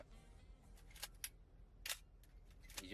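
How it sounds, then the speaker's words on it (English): A Nikon F3 or Canon New F-1 film camera fires its shutter in AE mode, crisp quiet mechanical clicks repeated several times close up, with no talking. "The shutter sound is also very good. It's in AE mode now."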